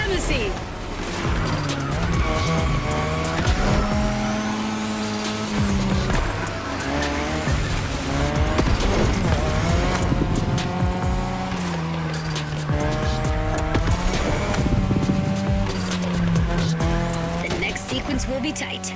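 A car drifting in The Crew Motorfest, its engine revving and shifting up and down while tires squeal almost without pause, loud and continuous, with a voice talking over it.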